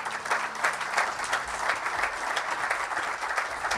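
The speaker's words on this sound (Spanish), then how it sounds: "Recibamos con un fuerte aplauso a Jaime Maussan." Audience at the 2017 World Ufology Congress applauding to welcome journalist Jaime Maussan to the stage, with dense, sustained clapping at an even level and a faint low hum at the start.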